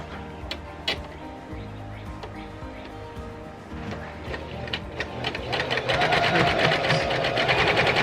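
A sewing machine stitches a hem on linen waffle weave cloth at a short stitch length, its steady mechanical whir and ticking close up, growing louder and busier toward the end.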